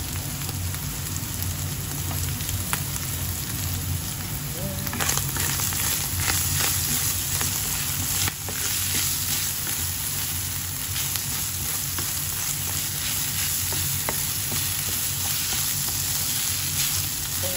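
Potatoes and carrots sizzle steadily in a hot pan, a continuous dense crackle with occasional stirring scrapes, close and without talk.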